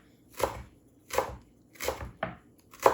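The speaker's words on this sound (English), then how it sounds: "now I'll just go in and I'll chop our carrots as fine as I can" Knife chopping carrots finely on a cutting board, with four or five separate bursts of quick close chops spaced under a second apart and no talking.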